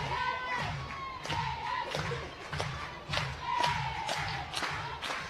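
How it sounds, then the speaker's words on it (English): A softball stadium crowd at an Oklahoma home game cheers and shouts in rising and falling waves, heard fairly faint and distant. "Crowd already in full throat early here."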